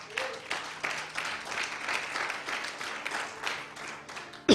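A church congregation claps in praise, a loose, moderately loud spread of hands with uneven bursts, and a sharp clatter right at the end.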